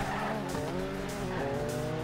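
A Nissan S14 drift car with a 2JZ engine in the Torque Drift game launches hard, its engine roaring loud and continuous while the tires squeal and skid throughout.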